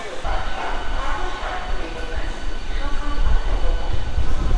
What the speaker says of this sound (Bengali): তেরো নম্বর প্ল্যাটফর্ম থেকে পাঁশকুড়া লোকাল ছেড়ে গেল